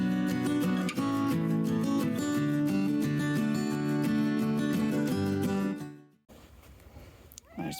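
A cat on a farm with Cornish Cross meat chickens meows clearly and fairly close for several seconds. The call is drawn out and tonal, then stops, leaving quiet outdoor ambience with a faint rustle near the end.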